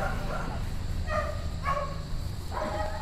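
A dog on a farm barks several times in short separate bursts at moderate distance, set against a steady low rumble of background noise.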